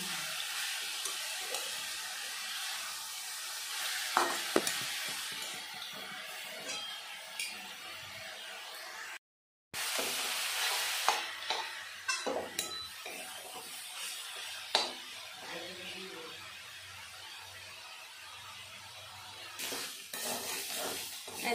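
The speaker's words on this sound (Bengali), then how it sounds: "দেখুন আমি ভেজে নিয়েছি শাকগুলো" Freshly picked khesari greens sizzle steadily in a hot pan for a stew, with the scrape and clatter of a stirring utensil against the pan breaking through at irregular moments and a brief silent break midway.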